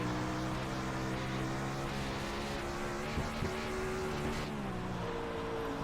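A 360 dirt sprint car at Williams Grove, in the iRacing video game, gives a continuous high engine drone that shifts pitch as it accelerates and lifts through the laps. It plays alone with no talking.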